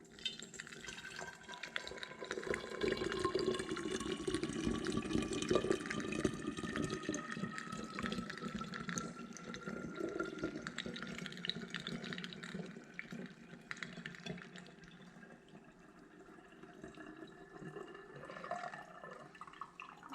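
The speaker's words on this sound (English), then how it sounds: "we're just going to go ahead and slowly pour the liquid in here" Liquid trickles and splashes steadily through muslin cloth into a vessel, a continuous watery pour with faint dripping, fairly close and with no talking.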